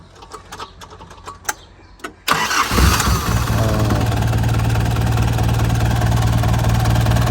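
A used BMW with a 2.5-litre engine starts up: a short crank gives way to a sudden loud catch at about two seconds, then a steady, close idle runs on without any talk.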